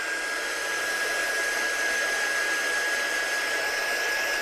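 A hair dryer blows steadily over a painted craft piece, a loud continuous whoosh with a high whine running evenly throughout, no voices.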